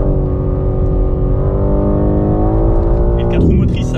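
An all-wheel-drive car on Michelin Pilot Sport 4S tyres accelerates hard, its engine a loud, steady drone that climbs gradually in pitch, then shifts near the end as it pulls away.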